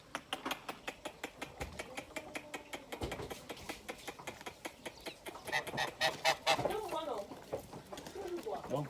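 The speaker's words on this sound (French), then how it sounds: "Nous avons des oies et des canards." Geese honk and ducks quack repeatedly in a busy farmyard at a training centre in Yaoundé, Cameroon, the calls overlapping and growing louder toward the end, with a voice speaking among them.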